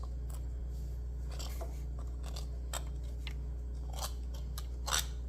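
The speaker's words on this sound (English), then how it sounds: "we're going to go around and cut all the excess pie crust that we do not have to use" Scissors snip through excess apple pie crust in a string of faint, close, crisp cuts over a low steady hum, with no talking.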